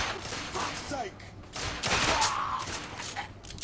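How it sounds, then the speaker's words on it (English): A gunfight in The Order 1886 as two enemies open a gate: close bursts of automatic fire and crackling shots overlapping in a busy, continuous exchange. "Quick gunfight."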